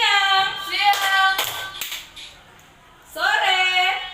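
In a classroom, a few sharp hand claps land between stretches of a teacher calling out greetings in a drawn-out, sing-song way, close and fairly loud.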